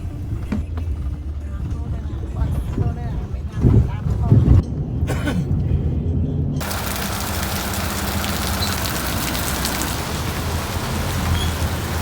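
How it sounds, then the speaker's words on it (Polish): A brief muffled thump and rustle give way to a heavy downpour hissing steadily and loudly on a surface for the rest of the clip, in Cambodia. "Po dojechaniu na miejsce zastał mnie ogromny deszcz, ulewa"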